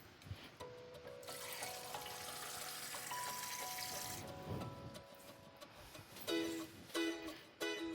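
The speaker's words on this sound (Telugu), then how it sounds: "పప్పుకి సరిపడా వాటర్ వేసుకుందామండి" Water poured into cooked lentils for Andhra pappu pulusu, a continuous splashing pour for a few seconds followed by quieter kitchen clinks and a faint hum.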